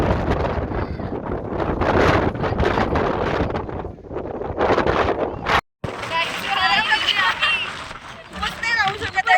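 Strong wind at Tiger Point in Lonavala buffets the microphone in loud, uneven gusts, with people talking beneath it and a short dropout partway through.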